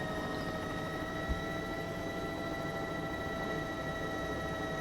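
A Bell 206 helicopter idling in the flight simulator X-Plane 12, parked on a helipad, giving a steady droning hum with constant whining tones and one soft thump, without voices.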